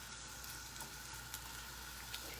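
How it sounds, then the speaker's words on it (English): Food sizzles and bubbles gently in a frying pan. The sound is a faint, steady crackling hiss with small pops and no voices. "I hear it sizzling already and a little bubbling"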